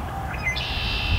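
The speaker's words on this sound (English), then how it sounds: "these two red-winged blackbirds calling" Red-winged blackbirds call close by in an outdoor evening setting, short whistled and buzzy notes rising over a low rumbling background, with no talking.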